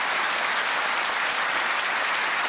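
Studio audience at a TV quiz show breaking into applause, a dense, even wash of clapping that stays loud and close for the whole moment, with no talk over it.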